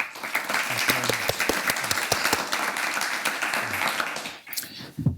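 An audience at a speaker series event applauds to welcome a guest, with dense sustained clapping that fades briefly before a short final burst.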